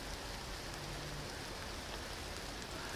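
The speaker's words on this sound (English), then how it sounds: "Yep, rain again." Steady rain falls in the Canadian wilderness as a soft, even hiss with no pauses and no voices.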